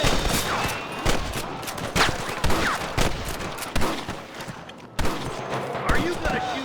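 Repeated gunshots crack out in a Red Dead Redemption shootout with cattle rustlers, sharp loud bursts every second or so over a steady game ambience, with shouted voices mixed in.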